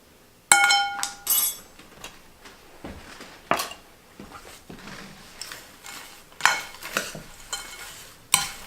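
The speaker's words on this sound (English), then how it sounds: "Mix it up so all the spices are all mixed around all the dry ingredients." Cinnamon, allspice and other spices get stirred into dry granola ingredients in a bowl, giving intermittent scraping rustles and sharp glassy clinks of a utensil against the bowl, alone without speech.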